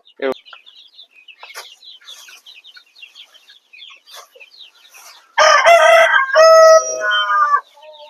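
Chickens and young hens on a small home farm that also keeps quail: soft intermittent clucks and chirps through the first seconds, then a loud, close rooster crow near the end.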